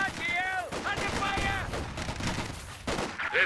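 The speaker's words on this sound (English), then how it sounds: "Got a bit of mortar fire coming down as well, perhaps." Rapid gunfire and bursts of shelling ring out across a Company of Heroes 2 multiplayer battle, with mortar rounds coming down amid a dense, continuous clatter of shots, loud and close for the whole stretch.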